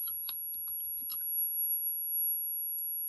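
Quick clicky keystrokes on a computer keyboard come in a short burst at the start, then fade to near silence with only faint room noise.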